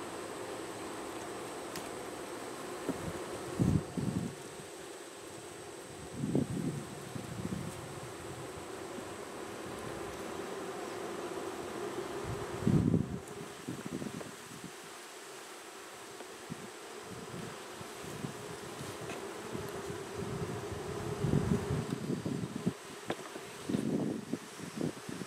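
Honey bees hum steadily around an open hive full of eggs, brood and new foundation, a dense continuous drone with occasional louder passes near the microphone and light wind rustle.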